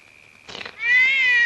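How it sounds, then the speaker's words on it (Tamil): A cat gives a loud, drawn-out meow close by, rising and holding steady after a brief rustling noise, over a quiet background hum. "இது பூனை"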